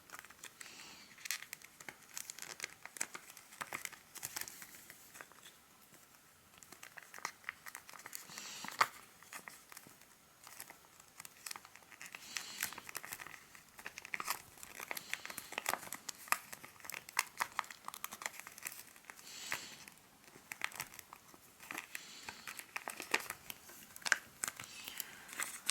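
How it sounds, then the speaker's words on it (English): Paper for an origami ladybug is folded and creased by hand, producing continuous close, soft crinkling and rustling with small crackles throughout. "basically you just want to fold them in each four"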